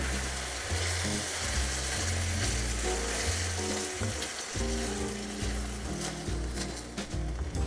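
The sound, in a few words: stirring penne alla vodka sauce in a pan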